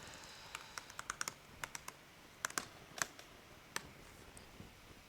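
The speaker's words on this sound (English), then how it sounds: "eventually it will catch up with my typing." Someone types on a computer keyboard while writing test-driven development code, with irregular bursts of light key clicks, close and quiet, separated by short pauses and no talk.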